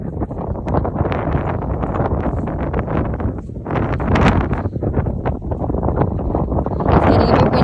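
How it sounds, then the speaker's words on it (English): Strong wind buffeting the microphone outdoors on a farm ahead of a storm, a harsh, gusty roar that rises and falls throughout. "It's getting a bit windy."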